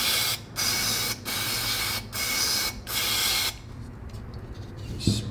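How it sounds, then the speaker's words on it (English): CRC mass airflow sensor cleaner sprayed onto a BMW E60 sensor, four steady hissing bursts of about a second each with short pauses, then quiet handling sounds. "now I'm going to be cleaning the mass airflow sensor with the CRC mass airflow sensor cleaner. Just going to spray it on all sides."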